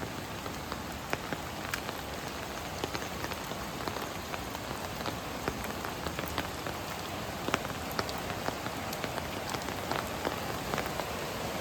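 Heavy monsoon rain pours steadily at a stream, a dense, unbroken hiss of drops pattering on surfaces, with no voices.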